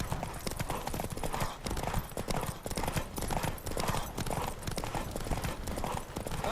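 A horse gallops in the Witcher 3 Wild Hunt video game, with rapid, continuous hoofbeats in a driving rhythm, loud and close over a dense rush of wind and ambient noise.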